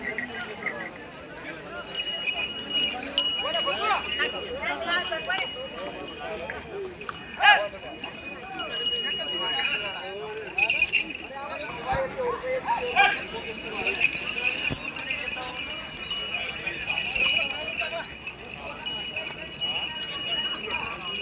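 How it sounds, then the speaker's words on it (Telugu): Bullocks moving through a Monday weekly cattle market at Pattikonda, their hooves clopping in an uneven, continuous patter amid a busy crowd, with voices talking throughout. "చూడండి ఏ విధంగా తేలుతున్నాయో ఎద్దులు"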